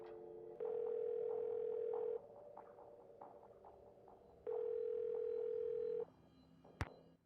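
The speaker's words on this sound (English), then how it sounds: "Phone numbers. Let's call Ned" Telephone dial tone in the video game Nancy Drew: White Wolf of Icicle Creek, two long steady tones separated by a quieter gap of soft clicks and keypad sounds, ending with a sharp click.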